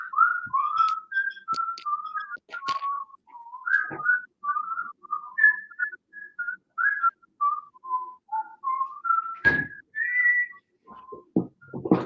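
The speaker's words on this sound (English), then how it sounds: "Do we whistle or something?" A person whistles a wandering tune over about twelve seconds, a steady series of clear pitched notes rising and falling, close and fairly loud, with a few brief clicks and knocks in between and no talking.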